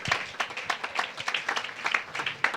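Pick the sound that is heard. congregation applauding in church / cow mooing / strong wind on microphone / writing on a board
congregation applauding in church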